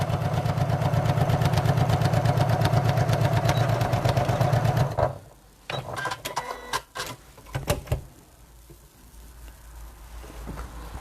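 A sewing machine stitching down the sides of a tote bag runs steadily and loudly with a rapid rhythmic whir, then stops, leaving scattered handling clicks and rustles.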